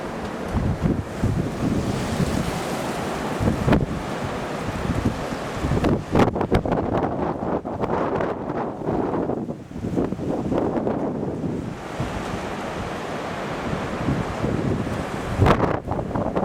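Strong wind gusting outdoors in Australia, a steady broadband roar buffeting the microphone with louder bursts throughout, no voices.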